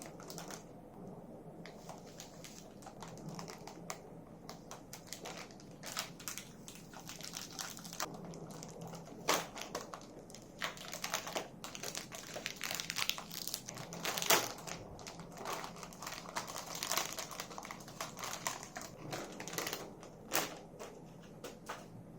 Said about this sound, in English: So now let's unwrap this keyboard.